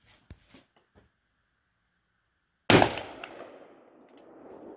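A Type 81 rifle fires a single loud, sharp shot at an outdoor range, with a long echoing decay after the report. A few faint knocks and clicks come before it.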